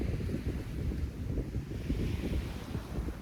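Steady wind rushes over the microphone with rolling surf breaking on a beach in Mexico, a continuous low roar with no pauses and no voices.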